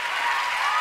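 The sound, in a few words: applause on the show Amici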